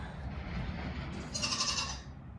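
Goats bleat inside a hay barn, a short run of wavering calls in the middle of the clip over a steady rumble of background noise, with no talking.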